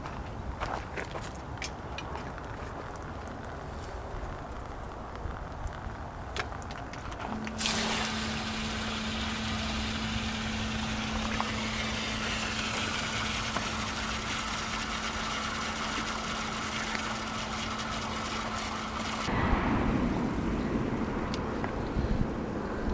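A backyard fish pond pump hums steadily once plugged in, a constant low drone that runs for about twelve seconds beneath outdoor wind and rustling, then cuts off abruptly.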